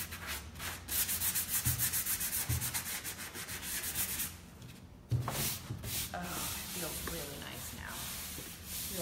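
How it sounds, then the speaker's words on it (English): Fabric coated with Annie Sloan chalk paint is sanded by hand in repeated rhythmic rubbing strokes, close and soft, with a brief pause midway before the scraping resumes. "I'm gonna need to sand that a little bit more"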